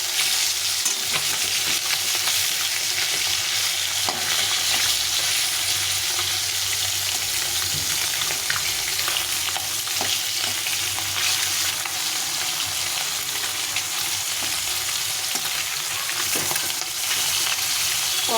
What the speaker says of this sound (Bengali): মাছগুলোকে আবার উল্টে দিতে হয় উল্টে ভাজতে ভেজে দিতে হয়